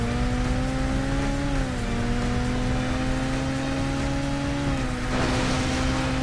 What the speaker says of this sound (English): The pickup just got totaled.